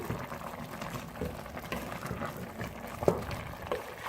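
Softened spinach and mutton being mixed in a cooking pot, with wet squelching and stirring scrapes over a steady bubbling simmer, close and moderately loud, with no talking.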